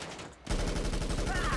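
Rapid automatic gunfire in GTA Online as security guards are shot during a heist contract, dense repeated bursts starting abruptly after a short quiet lead-in and continuing loud to the end.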